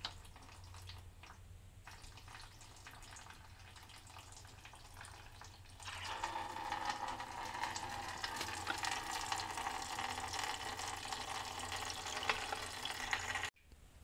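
Coolant drains out of the radiator of a 2002 Honda Odyssey with a soft trickle that swells into a steady, hissing splash of liquid pouring into a container, up close and with no talk.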